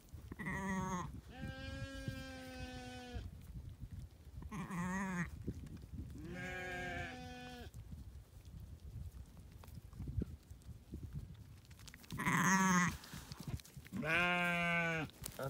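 A ewe and her newborn triplet lambs bleat repeatedly nearby, with several distinct calls of varying pitch separated by quiet stretches of soft barn background noise.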